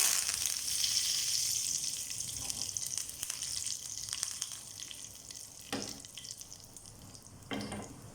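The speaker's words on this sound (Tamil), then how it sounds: "ஆயில் நல்லா சூடானதும் அதில் கொஞ்சமாக கடுகு உளுந்தம்பருப்பு சேர்த்துடலாம்" Mustard seeds, urad dal, dried red chillies and curry leaves sizzle in hot oil, a continuous close hiss for tomato chutney tempering, with a couple of soft clinks near the end.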